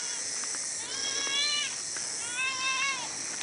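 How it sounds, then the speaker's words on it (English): A friendly outdoor cat near a cabin gives two drawn-out meows, close and clear, over a steady hiss of background noise. "Here's that friendly cat. Meow."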